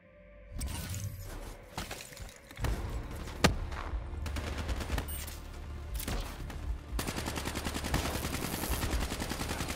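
Gunfire in Call of Duty: Black Ops III, dense bursts of rapid automatic shots, sharp cracks and shattering impacts, near and loud, building to sustained fire in the final seconds.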